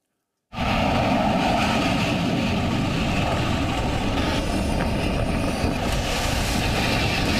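Loud, continuous roar of a Sukhoi Su-30 military jet of the Indian Air Force, starting abruptly after a brief silence and holding steady and close, with a rising high hiss toward the end.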